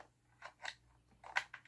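A router's network cable jack clicks into the single port at the back, heard as a series of short, close, faint plastic snaps and clicks in an otherwise quiet space.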